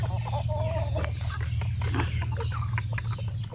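Basilan native chickens cluck and chatter close by over a steady low engine-like hum, with several short bird calls overlapping across a few seconds.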